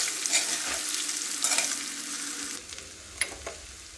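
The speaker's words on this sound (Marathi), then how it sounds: "नंतर पोहे घालू. व्यवस्थित मिक्स करून घेऊया." Poha flakes being stirred and mixed in a pan for dadpe pohe, with steady scraping and a soft sizzle throughout and a few sharper stirring scrapes, close up with no talking.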